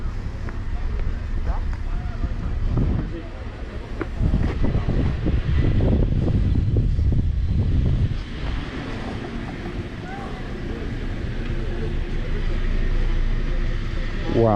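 Steady wind buffets the microphone in low rumbling gusts in San Francisco, with water and waves washing in the background and people talking intermittently.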